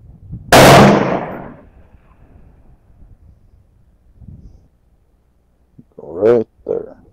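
A gun fires at body armor made of golf balls: one sharp, loud shot rings out early, followed by quiet and then brief voices near the end.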